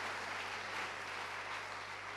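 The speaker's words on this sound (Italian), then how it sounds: "E un applauso allora anche a tutti i partecipanti" Steady, dense applause from an audience honoring the participants of an outdoor nature event in Farindola, Abruzzo, continuing evenly throughout at moderate volume.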